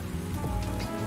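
Steady rain falling in the farming video game Pumpkin Day, a dense continuous patter on surfaces mixed with soft background music, with no pauses.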